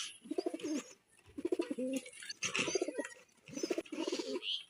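Farm pigeons coo in four repeated bursts, soft and fairly close, with brief pauses between each rolling call.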